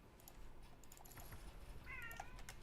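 A domestic cat gives a short, faint meow near the end, over a quiet room with steady background hiss.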